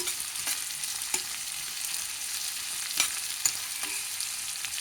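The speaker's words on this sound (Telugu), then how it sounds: "ఇది వేగిన తర్వాత ఉల్లిపాయలు బాగా ఎర్రగా వేయించుకోవాలండి." Onions frying in oil for chole: a steady, close sizzle with occasional light stirring clicks, continuous throughout, with no talking.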